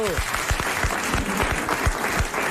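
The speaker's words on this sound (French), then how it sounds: "vous l'applaudissez" Studio audience on a French television game show applauding a winner, a steady, close wash of clapping that carries through the whole stretch, with a voice speaking over it.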